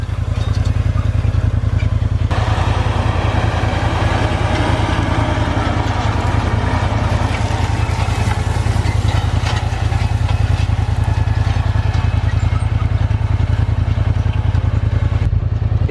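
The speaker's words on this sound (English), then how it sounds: "we're gonna hit it with the field cultivator here quick to stop that fire and break it up" A tractor engine runs steadily while pulling a field cultivator across a planted field. It makes a loud, continuous low drone with clattering metal over it, close by, and the pitch changes slightly partway through.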